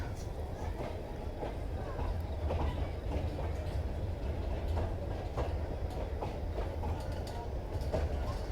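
A passenger train rolls into Mailani Junction with steady rumbling and repeated clattering of wheels over rail joints, continuous and fairly close, as someone talks over it.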